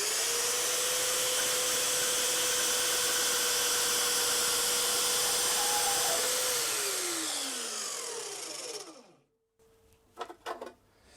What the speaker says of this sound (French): on laisse travailler la machine, ça sert à rien d'appuyer dessus. Elle va descendre toute seule et elle va couper le fer plat